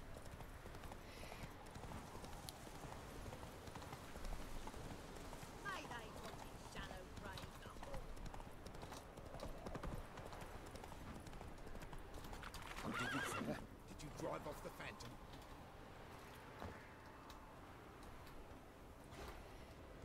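Roach, the horse in the video game Witcher 3, gallops with rapid, steady hoofbeats and lets out a whinny, all under someone talking and game background sounds.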